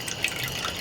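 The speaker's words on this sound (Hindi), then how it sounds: "फिर ये पानी टपके की आवाज कहाँ ले आवा थे यार" Water drips in a couple of faint, sharp plinks over a steady hiss of background noise, brief and close by.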